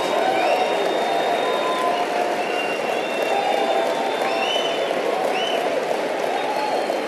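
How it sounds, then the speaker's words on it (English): A large audience at a motivational talk keeps up a steady, dense roar of applause and cheering, with whoops rising above a constant crowd wash. "Give yourselves a round of applause."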